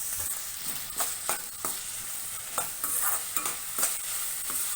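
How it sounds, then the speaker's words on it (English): Finely chopped onions, two large ones, fry in a pan, giving a steady close sizzle broken by regular scrapes and stirs of a spoon, with no talking. "So I have taken 2 big sized onions which I have chopped finely. And let us fry this until it becomes soft."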